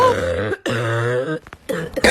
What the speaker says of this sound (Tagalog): ang crunchy ng ubo mo ha, crispy